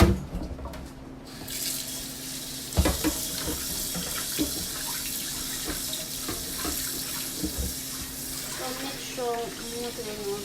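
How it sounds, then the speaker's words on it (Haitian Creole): Hot water runs steadily from a kitchen tap into a container for preparing turkey, making a loud, continuous rushing splash that lasts throughout, with a voice talking over it. "On va mettre de l'eau chaude là-dedans."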